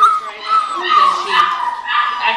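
Puppies whimpering and yipping in a high, continuous overlapping chorus at close range, with a person's voice mixed in among them.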